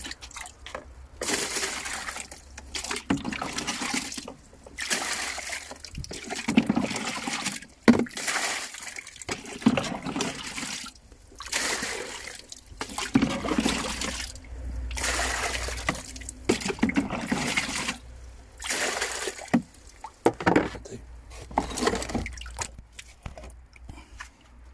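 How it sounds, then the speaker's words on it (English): Water poured onto aubergine plants in a garden, a steady splashing and trickling that comes in repeated bursts with short pauses between, close and fairly loud, with no talking. "Might give them aubergines a little bit of water."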